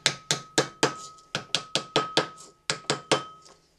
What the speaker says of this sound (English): And then I'll tap these rivets through.